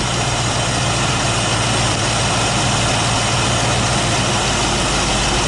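A Ford Maverick V8 runs steadily during carburetor mixture adjustment, a loud, continuous low engine drone with a constant rumble throughout and no talking.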